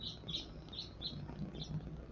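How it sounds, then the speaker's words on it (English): Birds chirp faintly in the background in a few short, high tweets that repeat irregularly over a low steady hum. "I hear the birds too."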